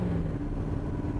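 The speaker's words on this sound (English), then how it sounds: "I love the exhaust on this baby." Exhaust of a 1966 Chevrolet Corvette while driving, a steady low engine burble with a throaty, even drone, close and moderately loud for a brief moment.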